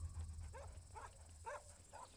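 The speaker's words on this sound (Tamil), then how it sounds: "என்ன நாய் சவுண்ட்லாம் கேட்குது?" Dog barks in a movie scene, four to five short yelps spaced about half a second apart, moderately distant, with a low hum running beneath them.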